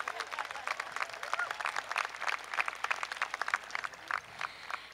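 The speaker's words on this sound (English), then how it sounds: "We can clap for that." Graduation audience at a high school ceremony clapping in a fairly faint, distant burst of applause that stays steady for about five seconds, with some crowd noise mixed in.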